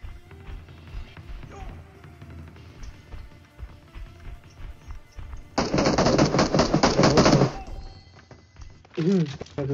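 Gunfire from the mobile battle royale game PUBG Mobile on the Erangel map: a loud, rapid automatic burst lasting about two seconds, then a shorter volley, with quieter shots and player chatter around them.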